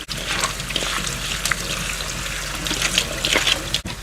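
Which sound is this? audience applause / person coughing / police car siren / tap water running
tap water running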